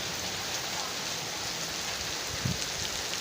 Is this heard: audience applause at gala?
no